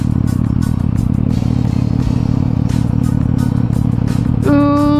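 A motorcycle being ridden on the road, its engine a loud continuous drone with rattling clatter and wind, steady throughout with a rising tone near the end.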